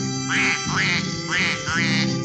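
Duck quacking in a sparkling red wine commercial for cold duck, four loud, close, evenly spaced quacks alone with no voices.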